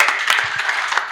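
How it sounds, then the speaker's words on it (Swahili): A church congregation claps their hands during a sermon in a dense, loud burst of applause that lasts about a second. "Pigieni makofi."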